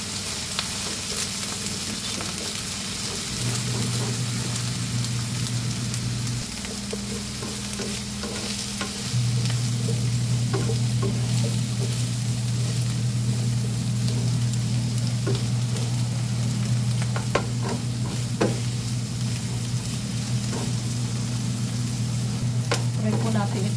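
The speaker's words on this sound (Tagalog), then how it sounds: "Parang i-fry po natin ang ating talong." Eggplant sizzling steadily in a frying pan, a continuous close hiss with light stirring scrapes and small crackles, no one speaking.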